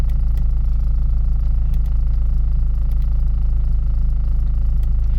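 A parked Acura RSX DC5 engine, held on a BeeR rev limiter, drones loud and steady at close range, with faint periodic ticks over the low rumble.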